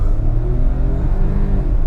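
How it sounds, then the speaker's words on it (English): A Hyundai Venue N-Line's 120-horsepower engine pulls hard under acceleration, a loud, close, steady drone with a rising note and no talking over it. "Wow, the engine is actually quite nice."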